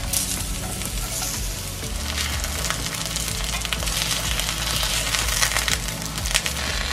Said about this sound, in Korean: 지금은 속까지 익히기 위해서 약중불로 줄여서 은근하게 익혀보도록 할게요.